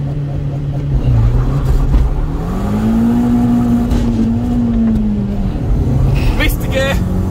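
An old car's engine revs hard and climbs in pitch while accelerating with wheelspin, loud and close, with voices talking over it.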